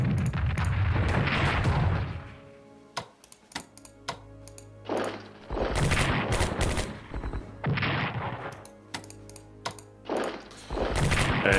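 Artillery fires repeatedly in the Strategic Command WW2 war game, with loud booming blasts and rattling bursts arriving in several separate clusters, each followed by short quiet gaps punctuated by sharp clicks.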